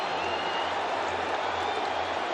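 A football stadium crowd cheering after a goal in an AFC Champions League Elite match between Al Ain and Al Sadd, a dense, steady roar of distant voices and applause.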